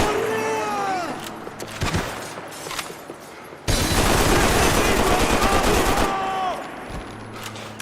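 SMG gunfire in the Max Payne 3 video game, rapid bursts of automatic fire at close range, with a sustained loud stretch in the middle, mixed with shouted voices and clattering impacts.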